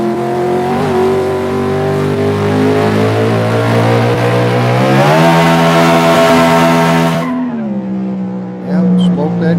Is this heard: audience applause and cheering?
no